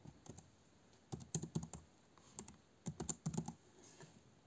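Keys on a computer keyboard clatter in quick, irregular bursts as a web form is filled in, fairly close and quiet with brief pauses between clusters of keystrokes and no talk.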